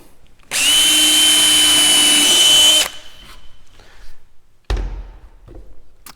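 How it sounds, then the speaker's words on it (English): A power drill whirs steadily for about two seconds, close and loud, drilling a 1/8 inch hole in a wooden drawer part, then stops; a couple of dull thuds follow. "drill myself an 1/8 inch hole."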